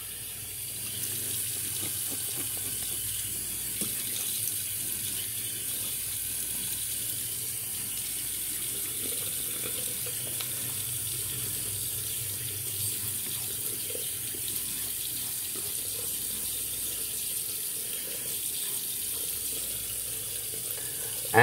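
A steady stream of water runs from a tap for wetting the face before a shave, hissing continuously into a sink at a constant level for the whole stretch.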